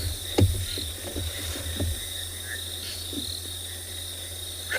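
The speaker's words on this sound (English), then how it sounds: "Attract a really nice kind of background noise from the crickets." Evening crickets on a South African safari make a steady high chirring bed, joined by a few low knocking frog-like croaks near the start, with no voices.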